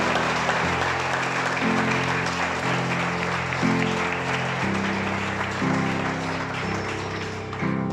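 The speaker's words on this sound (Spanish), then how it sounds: "Denle un aplauso a Dios de la mano," A church congregation applauds steadily over organ or keyboard chords, the clapping dense and moderately distant throughout.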